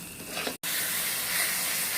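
Water poured onto spices cooking in a pan for Bengali kosha mangsho, a moderate sizzle broken by a sharp cut, then a loud, sustained steaming hiss as the mixture is stirred.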